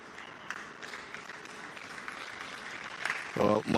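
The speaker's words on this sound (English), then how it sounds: "Montgomery is getting a bit of applause here because she's on her feet" Light, distant applause from spectators at an under-17 women's football match as an injured player gets up, a thin patter under a commentator's talk.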